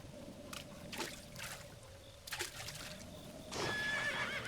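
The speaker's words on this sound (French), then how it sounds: "mon cheval vient" A horse neighs in the video game Zelda: Breath of the Wild, several short whinnies rising over a quiet trickling ambience, followed by a brighter game sound near the end.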